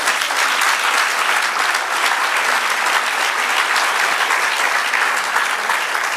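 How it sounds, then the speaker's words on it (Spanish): Sustained, dense applause from a large church congregation, steady and loud throughout with no talking. "Dale un aplauso al Señor."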